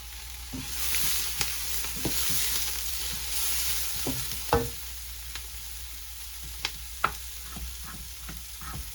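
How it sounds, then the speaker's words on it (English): Chopped garlic sizzles steadily in a hot oiled pan, a soft continuous hiss punctuated by scattered light clicks and taps of stirring utensils, heard up close without talk. "let me go ahead and add my"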